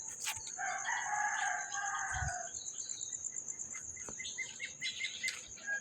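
Roosters crowing at dawn in a rural spot where chickens roost in trees, one loud crow near and others further off, over a constant bed of chirping insects and birds.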